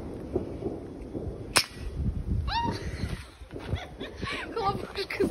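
Neighbours' New Year firecrackers outside near an apartment building entrance, one sharp loud crack standing out among rustle and faint background voices, with fainter pops and whistling bursts following.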